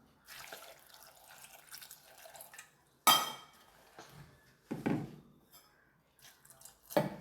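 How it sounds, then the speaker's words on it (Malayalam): Water splashes into a pot holding chopped ash gourd and slit green chillies for a Kerala moru curry, in a few separate pours with short gaps between them, close and clear with no talking. "ഇനി ആവശ്യത്തിനുള്ള വെള്ളം ഒഴിക്കുകയാണ്."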